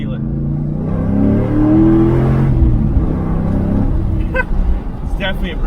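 A 2000 Ford Mustang Cobra R's engine roars as the car accelerates from inside the cabin, a deep, loud rising drone that then settles, with a voice talking over it.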